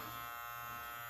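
A Live Bearded MT-1 beard trimmer runs with a steady, close electric buzz that holds an even pitch throughout.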